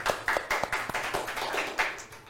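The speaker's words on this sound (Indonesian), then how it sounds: "Tepuk tangan dulu dong." A small audience at an Indonesian scout talk show claps, a sparse, fairly close patter of hands lasting a couple of seconds.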